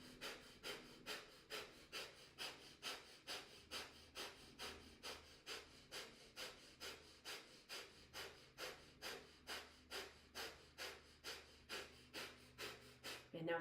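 Rapid, rhythmic diaphragm-driven breathing exercise: a steady train of forceful nasal pumps, about two per second, close and even, with a louder final breath at the end and no talking.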